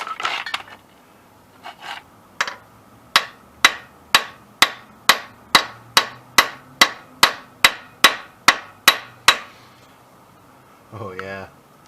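Small metal hammer taps on a greased part being seated flush with a loaner tool: about fifteen sharp, evenly spaced strikes in a steady rhythm, with brief talk before and after.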